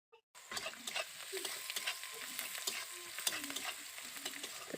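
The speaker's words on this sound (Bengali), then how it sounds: "এবার আমি ভালো করে পেঁয়াজটাকে ভেজে নেব" Onion fries in hot oil, a close crackling sizzle broken by repeated sharp stirring clacks and scrapes, starting after a moment of near silence.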